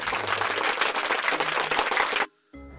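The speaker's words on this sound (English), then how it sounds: "Have a big clap for all of you." A group of schoolchildren claps loudly and continuously for about two seconds in a classroom, then the applause cuts off abruptly.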